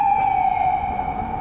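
Steady electronic siren wail from an emergency vehicle, loud and fairly near on a city street around Market Street and City Hall, holding a sustained tone without talk.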